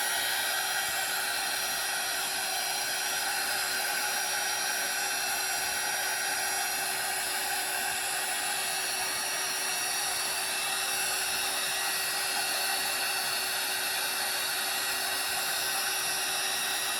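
A heat tool for scrapbooking blows hot air from underneath, a steady, fairly quiet hiss with a constant whine throughout.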